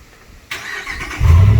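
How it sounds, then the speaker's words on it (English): A pickup truck's 5.7 liter V8 Hemi engine starts by remote start: a click, a brief cranking whir, then a deep, loud rumble as the engine catches and settles into idle, close by. "let's see if I can get this to work. The best feature of a remote start."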